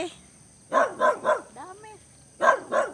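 Dogs bark nearby in short bursts, three quick barks, a whining yelp, then two more barks, fairly loud against a quiet background.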